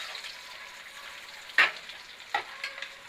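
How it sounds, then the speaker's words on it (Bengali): Onions sizzle gently in a frying pan, a low steady hiss punctuated by two sharper spatters or utensil taps, heard up close without speech. "পেঁয়াজটা একটু ভাজা ভাজা হয়ে যাক,"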